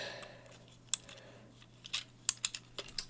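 Plastic Tobot V Mini Wild Chief toy being transformed, its back broken and legs folded out: a series of sharp, close clicks and snaps, sparse at first then quicker toward the end, over a quiet background with no talk.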